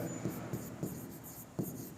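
Pen strokes on paper while writing out a maths equation, soft scratchy rubbing with a few light taps, quiet and close with no talking.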